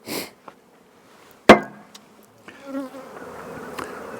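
Honey bees buzz around hive colonies being equalized, a faint steady drone building in the second half after a couple of sharp knocks and clatters of hive equipment nearby.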